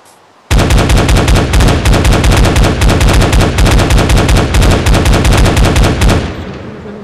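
Rapid automatic gunfire in a city-attack video game, a loud continuous burst of shots lasting several seconds and then cutting off abruptly.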